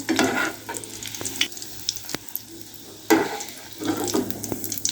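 Potato nuggets frying in hot oil, giving a close, steady crackling sizzle with occasional sharp clicks and scrapes as pieces are turned or moved, with no voices.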